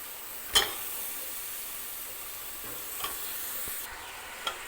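Masala for kappa biryani roasting in a pan, a steady close sizzle and hiss with a few sharp clicks of the spoon scraping and stirring against the metal.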